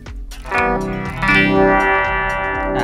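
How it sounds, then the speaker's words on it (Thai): Distorted electric guitar through a NUX MG-100 multi-effects pedal on a crunch preset plays a few crunchy chords, the tone thick with effects and a touch of echo, ringing out loud with no voices. "เป็นเสียงคันนะครับ"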